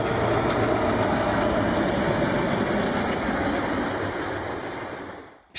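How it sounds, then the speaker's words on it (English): A moving train rumbles and clatters steadily and loudly for several seconds as a broad, continuous roar, fading slightly toward the end with no voices. "The train moved so fast that we reached our destination all of a sudden."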